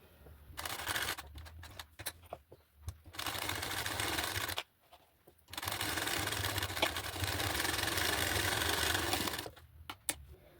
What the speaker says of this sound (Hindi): अब हम इसे इस तरह पलट कर इसके ऊपर एक सिलाई लगा लेंगे।